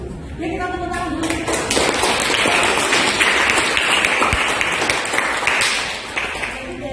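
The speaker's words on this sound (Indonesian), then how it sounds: "Ya, kita tepuk tangan dulu." Audience clapping fills a school classroom or hall, a dense steady patter of many hands that holds for several seconds and then tapers off.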